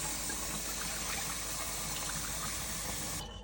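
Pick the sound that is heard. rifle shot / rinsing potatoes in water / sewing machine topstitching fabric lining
rinsing potatoes in water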